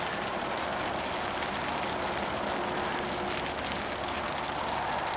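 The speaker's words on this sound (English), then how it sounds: "The sound of the rain beating on the tarp" Steady, dense rain patters on a tarp shelter nearby at a campsite, a continuous hiss of drops with no pauses.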